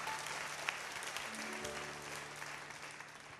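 A church congregation applauds during an evening worship and prayer gathering: a dense, steady wash of many hands clapping, sustained throughout at moderate distance.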